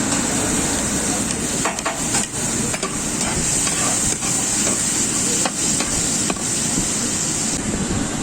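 Tomatoes frying in oil alongside camel liver at a liver eatery in Kerdasa give off a loud, steady sizzle that runs the whole time, with a few light scrapes and knocks of stirring on top.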